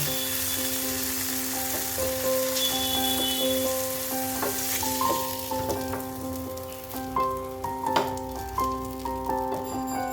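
Sausages frying in butter in a pan over low flame, a steady close sizzle and crackle with occasional light clinks of a utensil, no talk.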